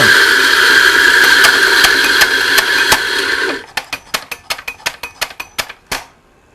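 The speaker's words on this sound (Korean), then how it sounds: "커피 입자가 굉장히 굵어지게 분쇄가 된다는 것을 쉽게 확인할 수가 있고요" A coffee grinder set to a coarse grind runs loudly with a steady whirring grind for about three seconds, then slows into a series of about a dozen distinct rhythmic clacks before stopping.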